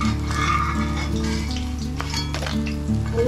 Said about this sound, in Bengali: এখন আমি কীভাবে লাল লাল করিয়া মাছের মাথা ভাজা করছি